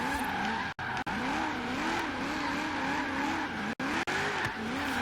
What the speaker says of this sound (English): Then you want to drift it through here.